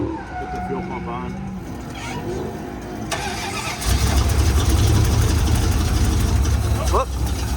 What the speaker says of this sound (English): Start it up, run it for a minute.